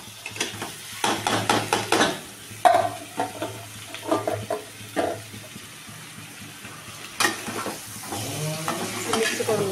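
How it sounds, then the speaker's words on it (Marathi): Potato slices go into a hot frying pan and are stirred, heard as bursts of sizzling and scraping spoon strokes against the pan, close and fairly loud, with brief gaps between the stirs. "तर हे बटाट्याचे काप केलेत ना, मी यामध्ये टाकणार आहे आता."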